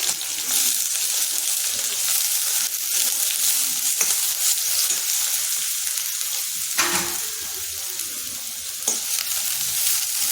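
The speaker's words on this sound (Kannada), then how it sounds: "ಎಣ್ಣೆ ಕಾಯ್ತಾ ಇದೆ ಇದಕ್ಕೆ ಕಪ್ಪು ಮೆಣಸಿನ್ಕಾಯಿ ಈ ಥರ ಇಟ್ಕೊಂಡು ಹಾಕ್ತಾ ಇದ್ದೀನಿ" Black pepper dropped into a pan of hot oil crackles and sizzles in a loud, continuous fry. A few brief stirring knocks break in near the middle, with no voices.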